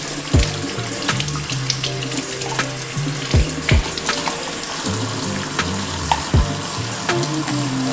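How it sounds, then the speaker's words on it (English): Tap water runs steadily over a lobster tail in a sink, a continuous close splashing wash punctuated by several heavier thumps and knocks as the tail is handled. "And we gonna wash this bad boy off."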